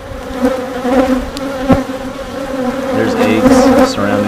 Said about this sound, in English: The bees are back on the camera.